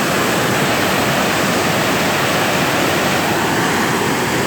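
A waterfall roars steadily and close by, a dense, unbroken rush of falling water with no voices over it.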